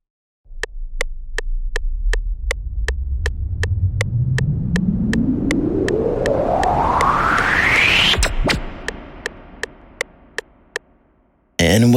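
A white noise sweep with no EQ automation, rising steadily in pitch over several seconds, with regular sharp clicks ticking along, then cutting off abruptly.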